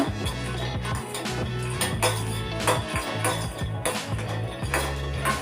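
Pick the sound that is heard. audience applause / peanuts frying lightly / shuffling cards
peanuts frying lightly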